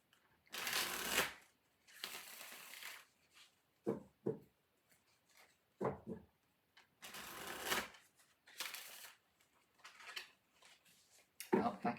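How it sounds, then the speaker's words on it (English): Tarot cards being shuffled by hand in several rustling, riffling bursts separated by short pauses, with light taps and card handling in between; close and fairly quiet. "Well, if I could shuffle properly, that would be great."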